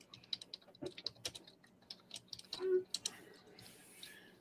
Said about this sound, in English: Now you got the old man typing in his Commodore 64 trying to get the facts